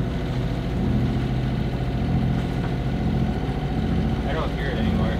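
A sailboat's engine runs steadily as its revs are pushed up, a continuous mid-pitched mechanical drone at close range with little change, while people talk quietly over it.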